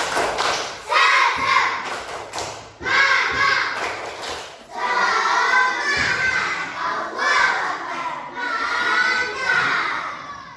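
A class of children performs the tepuk semangat rhythmic clapping cheer in a classroom, sharp clap bursts in a patterned beat alternating with shouted chanted words, loud and close, repeating over about ten seconds.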